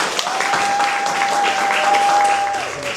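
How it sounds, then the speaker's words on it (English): An audience claps for a performer at a storytelling and poetry open mic, a loud, steady burst of applause lasting a few seconds, with a faint steady tone running underneath. "Please give a big round of applause for Blake Alexander Brooks."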